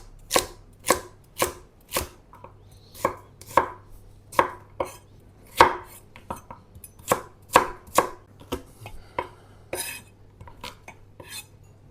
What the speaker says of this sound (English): we've got the rough chopped carrots, onion and celery